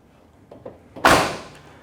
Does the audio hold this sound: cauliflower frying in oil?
no